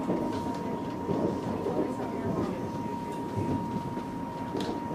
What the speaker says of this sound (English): This train is actually it's going to be traveling at a very fast speed.